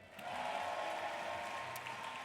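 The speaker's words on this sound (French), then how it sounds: "On les applaudit bien fort s'il vous plaît." Applause at a gaming esports final, the Gamers Assembly 2025 seniors' trophy event: a faint, distant wash of clapping and crowd noise that holds steady for about two seconds.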